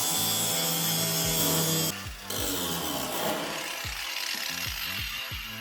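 Angle grinder cutting through the tunnel of a car chassis: a loud, harsh continuous grinding whine that briefly drops out and resumes, followed by rough scraping and rhythmic rasping strokes toward the end, with no clear talking.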